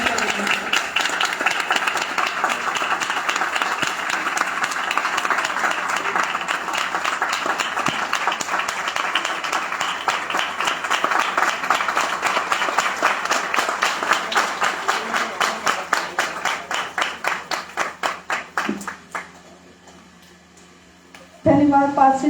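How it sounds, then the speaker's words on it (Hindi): A church congregation at a conference gives a welcoming applause for a pastor, loud dense clapping that turns into rhythmic unison beats, then fades to near silence before voices return at the end. "कलीसिया इसलिए आप जोरदार ताली बजाकर पासवान का स्वागत करेंगे"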